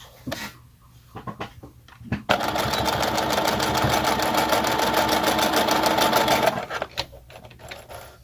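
A sewing machine runs steadily for about four seconds, stitching a miniature dollhouse pillow, its rapid mechanical chatter loud and close, with handling noises before and after.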